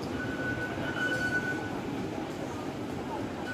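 A Taipei MRT metro train rumbling steadily near Songshan station, with a faint high tonal whine for a moment over continuous rolling noise in a busy station setting.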